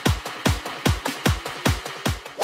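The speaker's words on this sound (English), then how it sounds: "for the drums, I have these two build-up loops that sound like this" Electronic drum build-up loops for an electronic track, punchy kicks with snappy hits repeating in a steady driving pattern, loud and alone.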